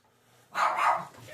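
A dog gives a single short bark, loud and fairly close, after a near-silent start, with a faint trailing sound as it fades.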